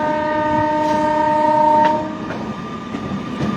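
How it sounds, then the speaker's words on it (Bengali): A loud, sustained train horn blares for about two seconds as a train arrives at Krishnanagar station from Amghata, then cuts off, leaving the rumble and rhythmic clatter of the passing train. "দীর্ঘ পনেরো বছর পর আমঘাটা থেকে কৃষ্ণনগর স্টেশনে প্রথম কোনো ট্রেন আসলো"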